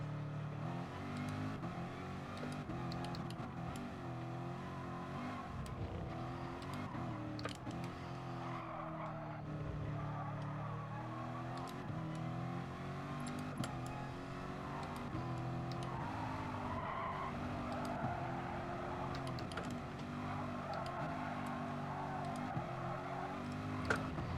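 A race car in a driving video game, driven on a track it is poorly suited to, revs and skids in a continuous engine drone with shifting pitch, accompanied by background music.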